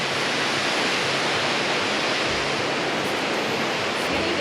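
A waterfall in a canyon pours with a steady, broad roar of rushing water, constant and fairly near, with no voices heard.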